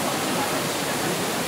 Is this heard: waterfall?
yes